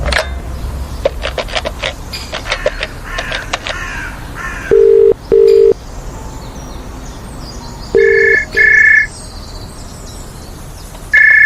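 An electronic telephone rings in short paired tones, repeating a few times with pauses, following some earlier scattered clicks and background noise.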